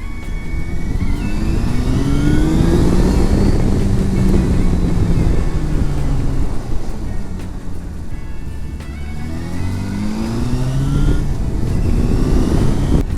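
A Yamaha motorcycle engine runs steadily and loudly, rising and falling in revs, with wind buffeting the microphone throughout, on a cold ride at -1°C.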